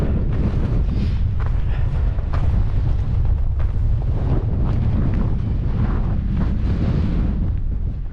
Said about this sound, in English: It's an extremely cold wind.